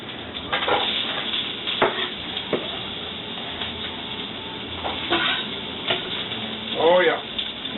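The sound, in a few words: oil sizzling in a frying pan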